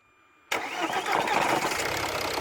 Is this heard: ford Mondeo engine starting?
yes